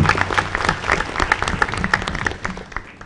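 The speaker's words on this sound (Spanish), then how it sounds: "un aplauso fuerte para los amigos" Audience applause breaks out at an IPv6 implementation conference panel, a brisk dense clatter of many hands clapping, fairly close and loud, tapering slightly toward the end with no talking.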